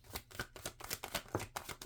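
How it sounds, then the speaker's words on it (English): A deck of tarot-style cards being shuffled by hand, quick rhythmic riffling taps close up and fairly soft, with no talking. "That's why it's getting hard to shuffle."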